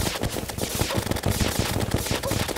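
Rapid gunfire in Terraria during a fight with the Plantera boss, firing continuously in quick repeated shots at a steady, even rhythm, loud and up front.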